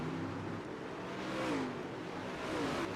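Late model race cars roar around the dirt oval at Fairbury Speedway during a playoff race, a steady wash of engine noise with revs rising and falling as the pack passes.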